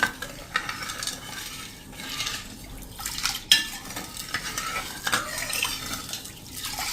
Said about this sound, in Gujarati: હવે આને આ રીતે આપણે મિક્સ કરી લેશું